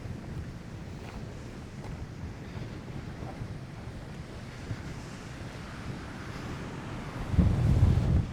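Low-tide surf splashing along a rocky shore near Baby Beach, with steady wind buffeting the microphone throughout and a louder, closer surge of water near the end; no one speaks.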